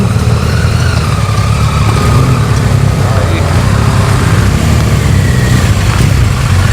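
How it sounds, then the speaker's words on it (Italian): Steady, loud roadside traffic noise in the Euganean Hills near Padua as cars and motorbikes pass continuously, with engine rumble and occasional revving. "continua a passare macchine, moto"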